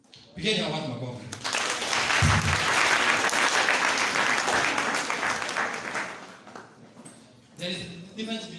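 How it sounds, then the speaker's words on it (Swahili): An audience at a career guidance talk breaks into sustained, loud applause lasting several seconds, framed by a speaker's voice briefly before and after. "Pigeni hawa watu makofi."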